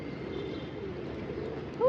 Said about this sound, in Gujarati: જો કેટલા બધા કબૂતરા છે.